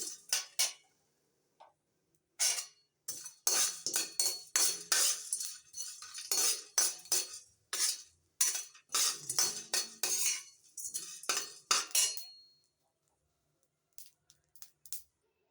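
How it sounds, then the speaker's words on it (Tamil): Dry spices such as cumin and coriander seeds rattle and scrape as they roast in a pan, a close series of quick clinking, scratching strokes with short quiet gaps, no voices. "1 ஸ்பூன் தனியா இதெல்லாம் போட்டு ப்ரௌனாக வறுத்துக்கிறேன்"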